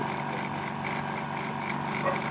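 A small air compressor pump drones steadily nearby, a continuous buzzing motor hum with a faint rhythmic pulse.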